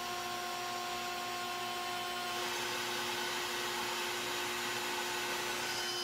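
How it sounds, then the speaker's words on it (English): A tiny .023 end mill cuts fret slots into a wooden fretboard for a multiscale cigar box guitar, a steady high-pitched whine with a constant motor hum, close and unbroken, rising slightly as the bit engages. "I'll start out with a .023 end mill to cut the fret slots."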